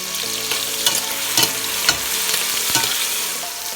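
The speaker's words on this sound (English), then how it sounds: "And just saute." Mackerel sauteing in a hot pan, a loud continuous sizzle and frying crackle with occasional clinks and scrapes of a utensil stirring, close up, no speech.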